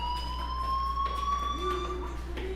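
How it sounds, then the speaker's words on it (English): A fire alarm in the video game Life is Strange rings as a steady, high electronic tone that holds without a break for the whole stretch, over a low constant hum. "Hey, do you hear that fire alarm?"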